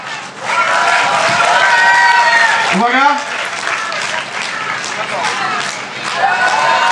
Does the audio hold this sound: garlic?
no